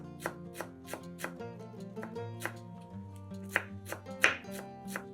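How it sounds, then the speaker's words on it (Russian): A knife finely chops a small bunch of dill on a board, a series of crisp, close blade strikes at an uneven rhythm, with faint background music beneath. "Небольшой пучок укропа очень мелко нарезаем ножом."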